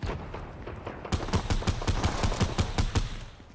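Rapid gunshots in Fortnite OG battle royale: a steady volley of about a dozen sharp, evenly spaced shots over a busy game background, moderately loud and with no talk.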